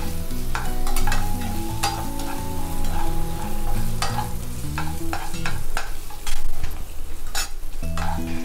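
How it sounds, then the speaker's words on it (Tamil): Onions being stirred and lightly sautéed in a pan for honey potato, with a constant frying sizzle and repeated sharp scrapes of a spoon against the pan, close and fairly loud, no speech. "வெங்காயம் சேர்த்துட்டு நம்ம லைட்டாக வதக்கி விட்டுக்கலாம்."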